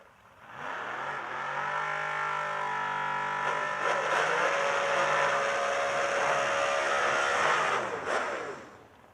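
A drag racing Cobalt holds a 15,000 RPM burnout, its engine screaming at a sustained high pitch with rising harmonics for about eight seconds before cutting off, loud and near.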